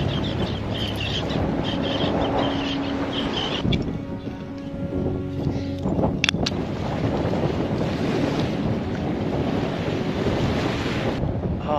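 Strong wind buffeting the microphone on a boat approaching a sand cay off a remote Australian island, with waves and water wash beneath, loud and continuous throughout with no talk.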